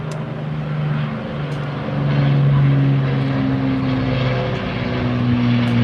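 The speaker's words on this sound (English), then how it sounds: "as we watch the Lancaster bomber" A Lancaster bomber, a propeller aircraft, flies past at the Blackpool airshow, its engines giving a steady, loud, droning hum that swells slightly partway through and carries on throughout without a break.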